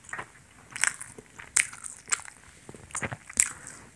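Crisp bites into food dipped in sauce during a solo home meal, several short crunchy bites spaced a second or so apart, close and fairly quiet with soft chewing between.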